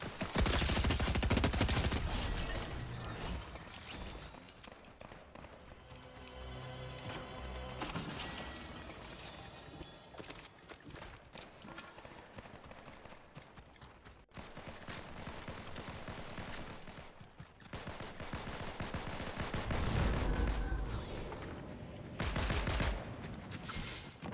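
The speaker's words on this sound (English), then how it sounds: "More shooting, huh?" Rapid bursts of gunfire from the video game Fortnite, with loud volleys early and late and denser shooting in the middle, heard alone without talk over it.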